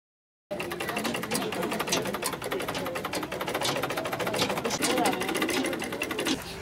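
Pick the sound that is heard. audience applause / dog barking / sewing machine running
sewing machine running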